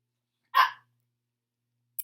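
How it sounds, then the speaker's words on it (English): A single sharp bark from a small dog, close and brief, followed by silence and a faint click. "And that's my dog"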